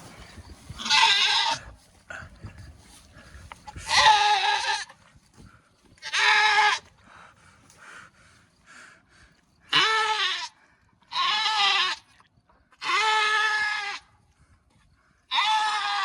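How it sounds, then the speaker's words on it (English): A goat bleats repeatedly, loud and close, in a series of drawn-out cries separated by short pauses, with little else audible between calls. "Good goat. Good goat."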